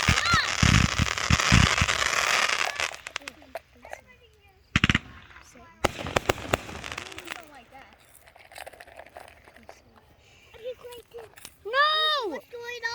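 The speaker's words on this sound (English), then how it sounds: "So This is the fireworks show. It started." Fireworks go off at a family fireworks show on a farm, with repeated sharp bursts and crackling at varying distances, including a whistling rising shot near the end, while people talk and exclaim.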